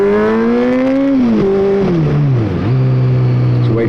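Honda CBR600F sport motorcycle, a 2012 model, with an aftermarket exhaust revving loudly and close, the engine note climbing and dropping through several throttle blips, then holding a steady idle-like drone.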